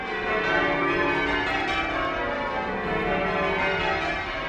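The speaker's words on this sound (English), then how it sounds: "when they walk down the streets and they hear the bells ringing" Church tower bells ring continuously outdoors, layered tones overlapping into a dense, steady peal that fills the space without a pause.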